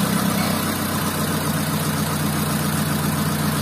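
A motorcycle engine, fitted with a Twin Light ignition module, runs at a steady idle just after starting, a constant loud low rumble with no talk over it.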